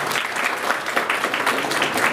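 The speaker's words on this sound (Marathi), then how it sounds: "त्यांच्यासाठी एकदा जोरदार टाळ्या वाजवूया" An audience at an inauguration event breaks into loud, sustained applause, many hands clapping together in a dense, continuous wash.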